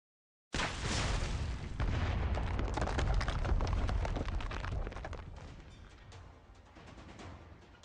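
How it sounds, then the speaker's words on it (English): A grenade blast in the game Arknights: one sudden loud explosion erupts from silence and rolls on as a long, dense rumble that fades slowly over several seconds. "Did he just toss a grenade at us?"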